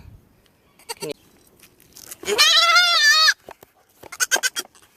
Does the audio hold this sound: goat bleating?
yes